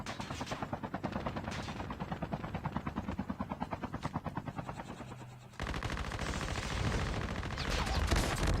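Gunfire from a mobile shooter game played on a Poco X3 Pro phone comes as rapid, loud automatic bursts in steady rhythm, then a dense continuous roar of shooting and engine-like noise, with no talking.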